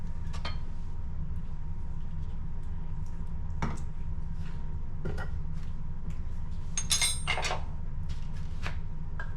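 A metal pan being pulled out and handled in a home kitchen: a few scattered clanks and clinks, one brighter rattling clatter near the middle, over a steady low hum.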